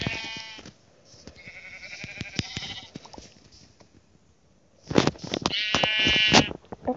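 Sheep in the Minecraft video game bleat in short, bright calls, one burst early on and a louder cluster near the end, standing alone with no talk over them.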